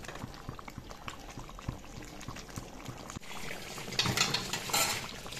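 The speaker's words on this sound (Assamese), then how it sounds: "আলু মাছখিনি এতিয়া মই আলুৰে উতলিবলৈ দিম" Liquid bubbling and pouring in a pot of boiling fish and potatoes, with light clatter of cookware; the bubbling grows louder and more vigorous toward the end.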